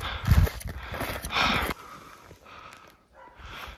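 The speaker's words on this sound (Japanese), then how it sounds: "ワンコが吠えてます。" A dog barks a few times along a forested mountain trail up Mount Nyukasa, sharp bursts early on that fade into quieter rustling and footstep-like sounds.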